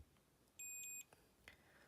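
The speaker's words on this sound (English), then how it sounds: "the multimeter will beep when you know that these are connected" A multimeter gives a single short, high continuity beep while probing ground points on a Game Boy Zero PCB, faint in a quiet room.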